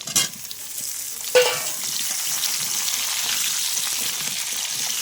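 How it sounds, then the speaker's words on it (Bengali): Potatoes and jackfruit seeds frying together in a pan, a loud close sizzle that swells after a couple of sharp stirring clatters, continuing steadily with no speech. "আলুটা দিয়ে আমি এগুলোকে আরেকটু ভেজে নেব তারপরে তুলব"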